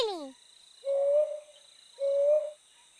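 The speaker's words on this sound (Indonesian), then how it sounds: "Suara pungok coklat berisik" Two drawn-out brown owl hoots, evenly spaced about a second apart, each a steady mid-pitched call with a slight upward lift, over a faint insect hum.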